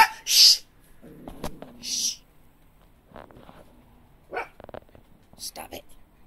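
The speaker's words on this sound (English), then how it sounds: "No barking." A Shih Tzu gives a few short, sharp barks and yips in bursts between quiet gaps, fairly close, with a person hushing and talking in between.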